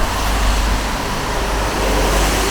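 Dense town road traffic rumbles continuously as cars pass close by, a loud steady roar with no pauses or voices.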